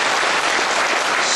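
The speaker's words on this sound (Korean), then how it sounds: "다 박수 쳐주십시오." Wedding guests clap together after the groom's vows, a loud, dense burst of applause that stays level for the whole moment without any talking.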